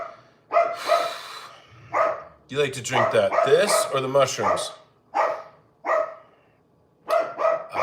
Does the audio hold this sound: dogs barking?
yes